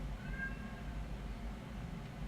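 A single short cat meow rises briefly over a steady low indoor rumble, close and fairly clear, with no speech.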